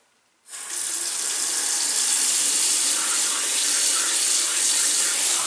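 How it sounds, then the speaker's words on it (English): A sink tap turned on for rinsing hair with warm water, starting abruptly after a brief quiet moment and then pouring in a steady, close, hissing splash that continues without pause, no speech. "I'm just rinsing it in the sink just for video purposes"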